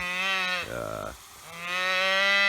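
A young bull calf bawls in a cattle herd, two long loud moos close by, the first breaking off partway with a brief lower grunt between them.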